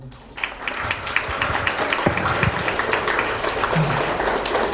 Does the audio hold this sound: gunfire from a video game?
no